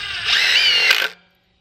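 A Milwaukee 2997-22 cordless drill/driver whirs at full speed for about a second, then winds down and stops, leaving silence.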